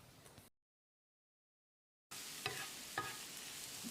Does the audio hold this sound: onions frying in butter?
yes